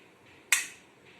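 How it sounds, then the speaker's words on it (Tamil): Set jaggery syrup ball for puffed rice ladoo dropped onto a plate, giving a single sharp, hard click or tap that rings briefly and fades within a fraction of a second, heard alone in a quiet kitchen. "இது இப்போ ஒரு பிளேட்ல போட்டிங்கன்னா ஒரு சவுண்ட் மாதிரி கேட்கணும்."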